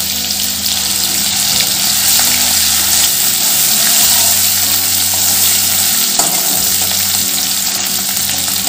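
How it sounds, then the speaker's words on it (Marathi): Curry leaves, green chili and ginger paste hit hot oil with mustard and cumin seeds, giving a steady loud sizzle and crackle throughout, with no voices. "मी आता त्यात कढीपत्ता टाकते, हिरव्या मिरचीची आणि आल्याची पेस्ट टाकते।"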